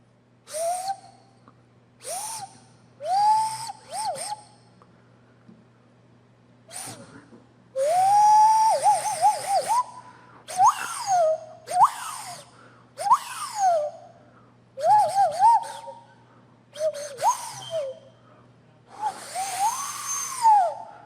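A nose flute imitates the calls of flying creatures with breathy, whistling hoots that swoop up and down, repeated in short phrases separated by pauses and played close and clear.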